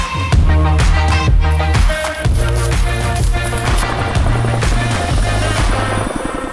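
A loud Austrian Armed Forces helicopter drones steadily nearby in flight, its rotor pulsing in a rapid, rhythmic beat throughout.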